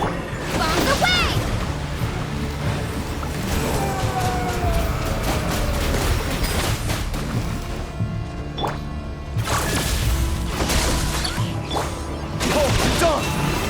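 Bomb blasts from the video game Genshin Impact, a loud jumble of booms, crashes and whooshes layered with game sound effects, some speech-like sounds mixed in.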